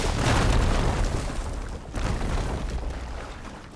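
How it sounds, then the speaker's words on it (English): A fire-bellow blockage blows up in Horizon Forbidden West: a loud, deep explosive boom with a rumbling tail, followed by a second heavy burst and lingering debris rumble. "Should be able to blow up that fire broom."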